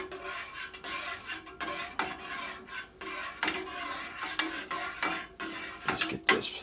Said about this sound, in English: Just get this thoroughly mixed up